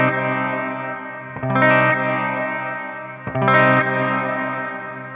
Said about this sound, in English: if we crank that, you can hear that there's this blooming sound within it.